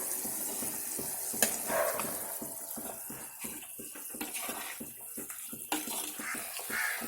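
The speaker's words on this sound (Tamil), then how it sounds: "குழம்பு நல்லா கொதிச்சிருச்சு." Sardine curry bubbles and boils in a clay pot with a soft, continuous gurgling hiss and occasional small pops, close by.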